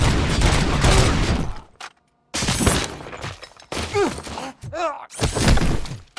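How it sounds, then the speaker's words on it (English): Gunfire from the RoboCop Rogue City video game erupts in dense, loud broadband bursts, broken by a short silence, with voices talking between and over the shots. "You really shot him!"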